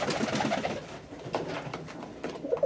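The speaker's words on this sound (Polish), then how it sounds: "Gołębie." Pigeons coo in soft, throaty bursts over a rustling background during feeding in hard frost around -10°C, fairly close, with several overlapping calls.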